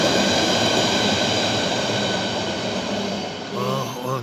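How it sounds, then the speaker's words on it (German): An S-Bahn commuter train rolls across a railway bridge over the Teltow Canal at Marienfelde, Berlin, a loud, steady rumble of wheels and cars that continues throughout, with a brief higher squeal near the end. "hier kommt wieder eine schöne S-Bahn über die Brücke gefahren"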